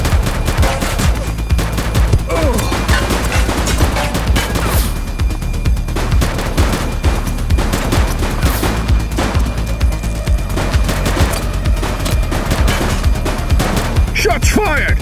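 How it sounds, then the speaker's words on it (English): Dense gunfire from a police shootout in The Precinct video game, with loud rapid bursts and single shots crackling continuously for fifteen seconds, shouted voices mixed in. "Shots fired!"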